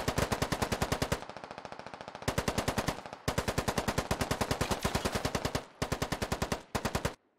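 Loud bursts of light machine gun fire in the military shooter Squad, rapid sustained automatic volleys broken by short pauses, close and dominant throughout.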